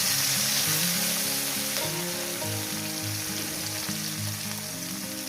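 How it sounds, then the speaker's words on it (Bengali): Small river fish sizzling steadily in hot oil in a pan, a continuous crackling fry with no voices. "মাছগুলো দিয়ে দিলাম মাছগুলোকে আমি একটু লাল লাল করে হালকা লাল লাল করে ভেজে নেব"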